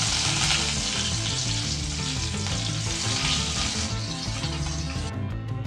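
Dried red chillies and fresh curry leaves crackle in hot tempering oil for an onion-tomato chutney, a steady dense sizzle running the whole time beneath a layer of tonal background music, then cutting off near the end.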